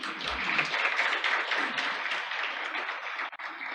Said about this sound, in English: Can we have a big round of applause for these people?